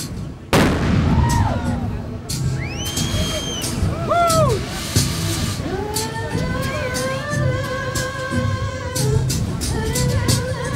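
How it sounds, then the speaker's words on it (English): Heavy cannon blasts fire repeatedly at an outdoor flamethrower music performance at Robodock 2005, booming over roaring flames and sweeping, whistling tones that rise and fall. The loud bursts recur throughout, and no one speaks. "So the instruments are flamethrowers, and we have some cannons with it."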